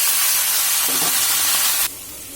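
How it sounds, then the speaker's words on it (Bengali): Fried hilsa fish head stirred into a hot pan with boiled Malabar spinach, giving a loud, steady sizzle with stirring scrapes partway through before the hiss drops off sharply. "আর ভেজে রাখা মাছের মাথাটা দিয়ে দেবো। দিয়ে এটা নাড়িয়ে নেব।"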